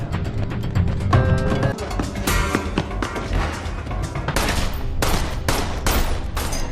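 Rapid volley of gunshots fired in a film scene, a series of sharp loud cracks bunched toward the end over a dense, busy background.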